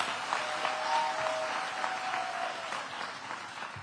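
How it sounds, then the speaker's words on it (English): An audience at a school community gathering applauds, a dense steady patter of many hands clapping that fades slightly toward the end. "let's give yourselves a round of applause"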